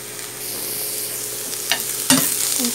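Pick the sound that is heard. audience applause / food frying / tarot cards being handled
food frying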